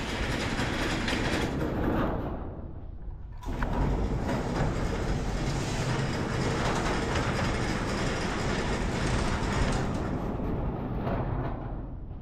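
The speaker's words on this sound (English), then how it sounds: "That motor sounds like it's junk up there" A worn-out garage door motor runs with a loud, continuous rattling rumble and harsh mechanical grinding, broken by one brief pause before it carries on.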